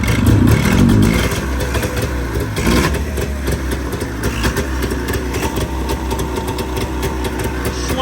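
An old Arctic Cat 370Z snowmobile engine with a slight exhaust leak is running close by, with a loud rough burst at first, then a steady clattering idle that continues without talk.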